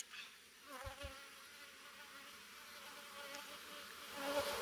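Honey bees buzz steadily around an open hive being inspected outdoors, a faint continuous drone with a few louder passes near the end.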